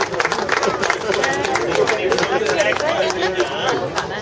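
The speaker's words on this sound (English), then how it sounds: "How about a nice round of applause for Lisa, ladies and gentlemen?" Audience applause at a live street magic performance in Hollywood, a brief burst of scattered clapping mixed with crowd chatter and talking close by.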